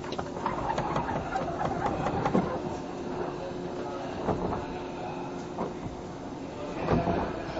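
A 185 series 200 limited express train on the Hometown Tochigi run from Shinjuku to Kuroiso, heard from inside as a steady rumble with periodic rail clicks and a constant motor drone.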